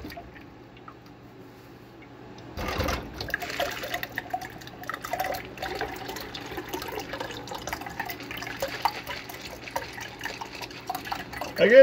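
Liquid pours steadily from a cocktail shaker into a glass with a continuous splashing trickle, close by and fairly quiet, lasting several seconds.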